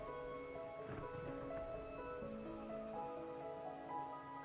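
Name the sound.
rain falling in the video game Wuthering Waves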